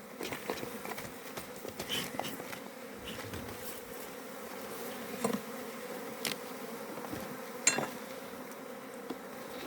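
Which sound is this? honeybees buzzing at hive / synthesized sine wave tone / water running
honeybees buzzing at hive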